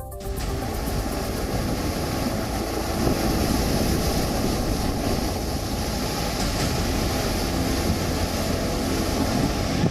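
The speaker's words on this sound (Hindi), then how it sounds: "समंदर में इस वक्त काफी ऊंची लहरें उठ रही हैं" High sea waves crash at the Dwarka coast in Gujarat ahead of Cyclone Biparjoy, making a steady, loud roar of surf mixed with gusting wind buffeting the microphone.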